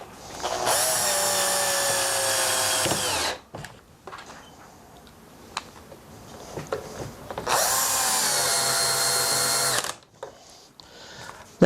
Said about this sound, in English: you only need a light drill to actually screw the screws in